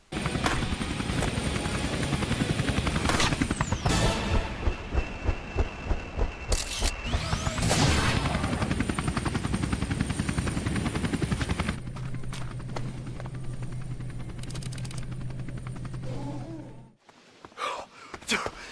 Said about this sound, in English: a police chopper shows up